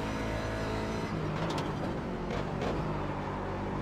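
Simulated race car engine in iRacing at Watkins Glen, a steady loud droning engine note building under acceleration, continuous with no talk.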